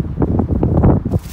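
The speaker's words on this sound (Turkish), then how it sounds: "Havada çok rüzgarlı ama" Wind gusting outdoors during cooking of an egg wrap, a broadband rushing buffet that batters the microphone steadily for a moment, close and fairly loud.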